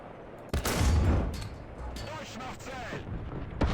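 The cannon of a BA-11 armored car in a video game fires with one sharp, heavy boom, followed by rumbling battle noise while a voice talks.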